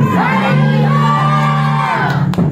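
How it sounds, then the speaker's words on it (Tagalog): A church congregation shouts hallelujah together in a loud, sustained crowd roar with rising whoops, filling the whole moment without separate speech. "lahat tayo sumigaw ng hallelujah!"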